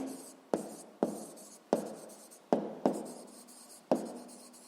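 Pen or chalk strokes writing numbers for a school math proportion exercise, a series of about seven crisp taps and short scratches at irregular intervals, close and clear with no talking.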